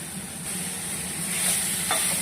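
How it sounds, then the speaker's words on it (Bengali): Two kinds of leafy greens hit a pan of fried puti fish, giving a steady close sizzle and hiss with a faint scrape of stirring near the end. "ভাজা ভাজা হয়ে গেছে, এর মধ্যে এবার সব রকম দু রকম শাক আমি দিয়ে দিচ্ছি।"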